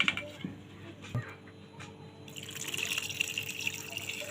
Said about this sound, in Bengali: এখন এর মাঝে আমরা দুধগুলো ঢেলে দিব।